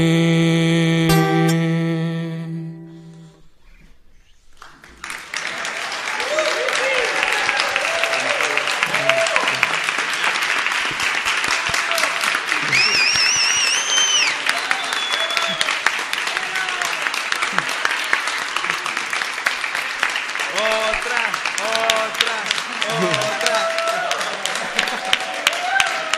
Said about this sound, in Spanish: Un aplauso a la sangha de Guadalajara y de México, por favor.